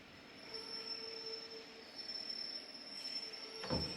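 Train pulling into a station platform, wheels squealing in a thin sustained high screech over low rumbling rail noise, with a brief louder clank near the end.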